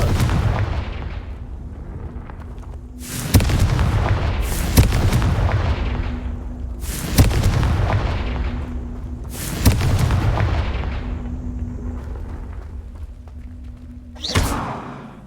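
The Confringo fire spell in the video game Hogwarts Legacy goes off as a series of heavy booming blasts, about five loud explosions spaced a few seconds apart, each with a rumbling tail.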